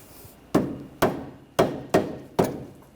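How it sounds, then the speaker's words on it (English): Five sharp metallic hammer taps, spaced about half a second apart, strike a front lower ball joint and control arm on a 2013-2019 Ford Escape, each close, loud and ringing briefly before the next. "If you have to, you can give it a tap with a hammer."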